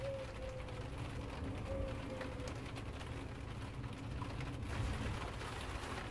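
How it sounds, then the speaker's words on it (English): Rain falls steadily outside, a continuous soft hiss of drops with faint ticking, even in level throughout and with no one speaking. "Hopefully the sound of the rain won't affect the audio on this recording"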